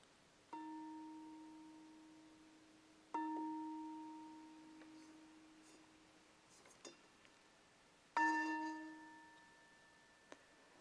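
A meditation bell with something touching it rings three separate times in a quiet room. Each strike is a clear tone that dies away sooner and sounds less resonant than usual, with a few faint clicks between strikes.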